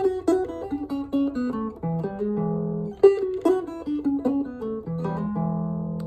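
Early electric Chicago-style blues guitar in E, played in first position with open strings, a close, moderately loud stream of single-note licks and short bends with brief chordal stabs, with no talking.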